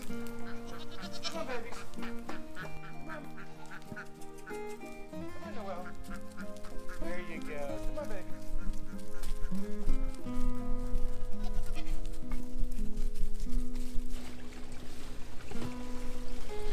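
Goats bleat on a farm during morning chores, with repeated calls rising over a steady noisy background while a person talks to them.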